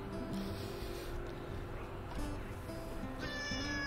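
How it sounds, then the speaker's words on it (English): A faint cat meows a couple of times in a quiet room, with a low background hum and a brief high tone near the end. "And I have a cat meowing."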